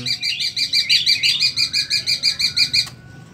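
A young wild-caught zebra dove calls nearby, a rapid run of rhythmic cooing trills repeated evenly for about three seconds before stopping abruptly.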